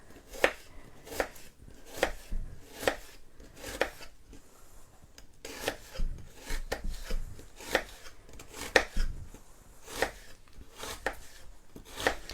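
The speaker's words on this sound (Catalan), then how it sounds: "Això serà el més complicat que té la recepta, tallar la ceba" A knife chops onions on a cutting board in a steady, close rhythm of crisp strokes roughly once a second, each a sharp tap with a slicing rasp, and no talking.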